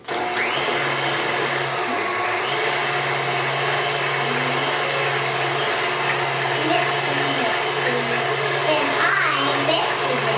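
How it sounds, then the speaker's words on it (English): A stand mixer creams butter and sugar, giving a steady, loud motor whir with a churning drone that runs without pause and no one talking over it. "So I'm gonna pour that in to my mixer with my butter. I'll lock it, and then I'm gonna mix this up, or cream it."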